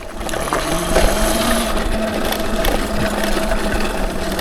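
A Qronge X1Spark electric bike rolls along with a hushed mechanical hum and faint rattles and ticks, its chain barely noticeable under steady road and wind noise.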